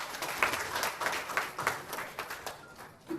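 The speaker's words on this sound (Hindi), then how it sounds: "ताली मार रहे हैं" Audience clapping at a trailer launch event for a Hindi film, a dense patter of many hands with irregular louder claps, steady and moderately near, fading slightly toward the end.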